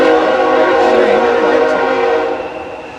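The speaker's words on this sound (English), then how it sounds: "And also a train." A passing train sounds its horn, a loud, sustained multi-tone blare held for a few seconds before it begins to fade.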